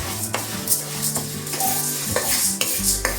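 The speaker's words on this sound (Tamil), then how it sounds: "கை விடாமல் துவரம்பருப்பு மட்டும் நல்லா கிண்டிக்கணும்" Toor dal roasts dry in a pan for paruppu podi, stirred constantly, so that irregular scraping and rattling knocks of a spoon against the metal sit over a faint sizzle, with no talking.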